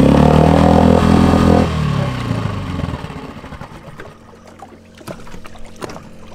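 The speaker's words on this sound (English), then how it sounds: "Once the engine starts, slowly pull in the choke so that it idles slower and warms up slowly." Small outboard engine on a sailing yacht's tender, pull-started with the choke on: a loud, dense engine roar for nearly two seconds drops into a lighter, uneven idle with sputters and knocks close by, and no talk.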